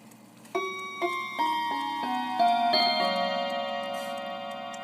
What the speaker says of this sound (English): Let's do the 1/4 chime on this puppy.